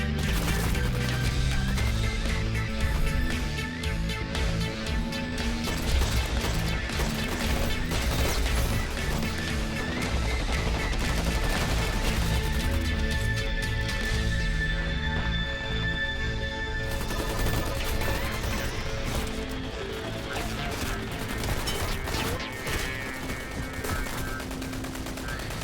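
Gunfire in the online shooter game Dirty Bomb, a dense, continuous barrage of shots and impacts mixed with game noise and music, loud throughout.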